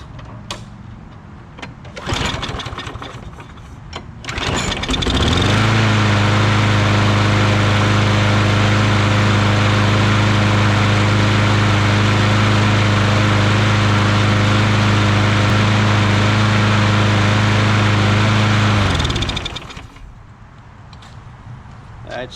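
Small gasoline engine started after a shot of brake cleaner and left running, a loud steady drone holding for about fifteen seconds before cutting off.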